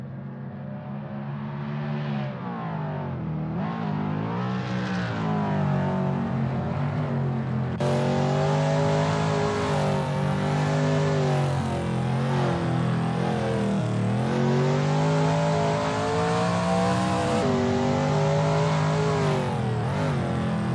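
Shelby Mustang GT350R racing around Willow Springs in a racing video game, its engine droning loudly and steadily with rising and falling pitch through gear changes, a continuous close roar with no talking.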